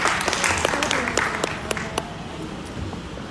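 Audience applause at a Bhojpuri music event, a steady crowd clapping that stays fairly loud throughout and then thins slightly toward the end, with a voice faintly audible underneath.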